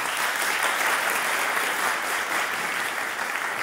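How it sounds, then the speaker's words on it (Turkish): Sustained audience applause at a symposium on social orphanhood in Türkiye, a dense, even wash of many hands clapping that stays steady and moderately loud from start to finish. "Bir alkış alalım."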